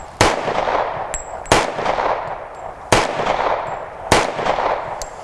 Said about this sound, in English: I always wanted to shoot a 1911 that had porting